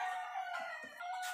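A gallo indio rooster crows loudly and close by, one long strained call with a brief break in the middle, alone without any talking.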